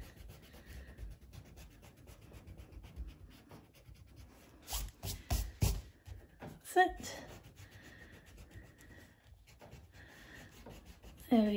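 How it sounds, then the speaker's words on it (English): A pencil eraser rubbing out pencil lines inside bubble lettering on paper, heard as soft, close scrubbing strokes in a few short bursts against a quiet background. "all I'm going to do is just rub out the inside"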